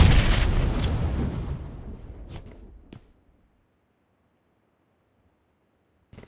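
In a PUBG Mobile match, a loud grenade blast booms and rumbles away over a few seconds, followed by a couple of sharp gunshot cracks and a faint distant shot after silence.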